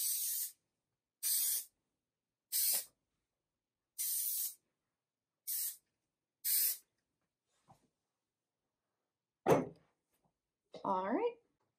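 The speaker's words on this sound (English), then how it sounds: "I'm just gonna finish it off with some hairspray. This is the Big Sexy Hairspray" Big Sexy Hairspray volumizing hairspray, sprayed onto flat-ironed hair in six short, sharp hissing bursts at close range, followed by a soft tap and brief speech.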